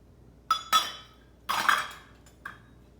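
Half a cup of breadcrumbs and milk are mixed in a bowl, with a few sharp clinks and scrapes of a utensil against the bowl, close and separated by short pauses.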